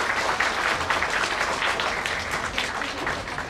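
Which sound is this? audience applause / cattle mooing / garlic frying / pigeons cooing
audience applause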